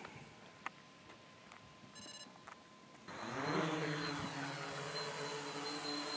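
A Blade Chroma quadcopter drone takes off: after a few beeps and clicks, the rotors spin up into a loud steady whining buzz that holds close by.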